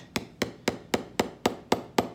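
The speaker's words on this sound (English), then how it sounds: "we're going to try to hammer in" Hammer blows driving pegs into a shoe heel by hand, eight sharp, evenly spaced strikes in quick rhythm, close and clear with no talk.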